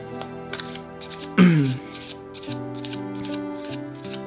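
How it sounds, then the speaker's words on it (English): Tarot cards being shuffled by hand, a close riffle and rustle with a sharp burst of card noise, heard under a speaking voice. "And as I shuffle, I'm making sure they're upright."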